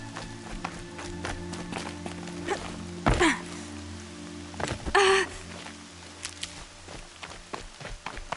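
Steady rain falls in Horizon Zero Dawn, a dense hiss of drops with faint footsteps and a couple of brief louder bursts partway through, and no voices.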